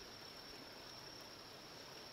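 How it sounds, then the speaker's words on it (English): Flowing water in The Vale: Shadow of the Crown, a steady faint stream-like rush without pause, with no other sounds over it. "Water."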